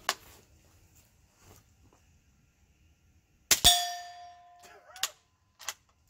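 An integrally suppressed Ruger 77/22 .22 rifle fires into dirt: a single sharp, muffled crack followed by a bright metallic ringing clang that decays over a second, with a couple of smaller clinks afterward.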